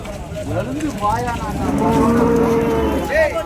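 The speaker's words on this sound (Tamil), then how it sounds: "பாருங்கள் இந்த கடைசி வரைக்கும் நிற்குதுங்க மாடு வண்டி போகிறதுக்கே இடம் இல்லை" Cattle moo repeatedly at a crowded cattle market in Vaniyambadi, several long, loud lowing calls overlapping amid busy crowd noise and voices.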